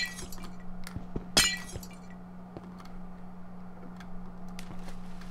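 A single glass pane breaking in a blocky building video game, a bright sharp shatter with a short clinking tail, set against a quiet steady hum and a few faint ticks.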